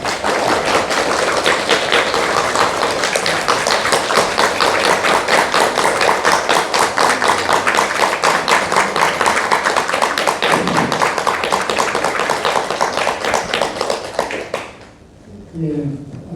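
An audience applauds after a Zen meditation lecture by a monk at a meditation academy retreat in Gyeongju, with dense, steady, close-up clapping held for about fifteen seconds before it fades out.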